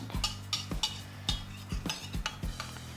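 Potatoes get mashed in a bowl with a masher, a regular series of soft thuds and squelchy presses with faint metal clinks, repeating about every half second.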